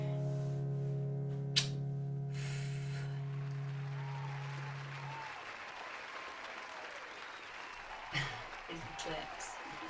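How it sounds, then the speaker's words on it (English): Steady applause from an audience after a live song fills the whole stretch, at moderate volume and fairly even, over a fading sustained piano note with a few scattered louder claps near the end. "Claps."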